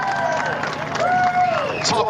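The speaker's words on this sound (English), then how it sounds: "Would you please be generous in your applause for Jake Camilleri?" Crowd of fans at a motor racing podium for a GT4 driver, giving a steady wash of applause and cheering close by, continuous for the whole moment.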